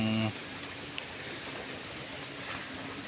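Rain and wind during a typhoon on a farm make a steady broadband wash, moderately loud and unbroken, after a brief tonal sound at the start.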